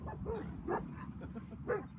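Dogs scuffling in a fight, with three sharp bursts of yelping and whimpering rising over a rough, continuous growl-and-scramble background, fairly close.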